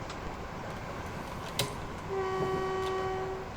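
A Class 323 West Midlands train sounds its low-tone horn in Train Simulator 2021, a steady held tone starting about two-thirds through over rumbling rail noise, with a brief click just before.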